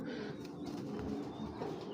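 Pigeons coo in a loft, a low murmuring bird sound that continues through the whole stretch under a dense background of rustling, with no clear talk.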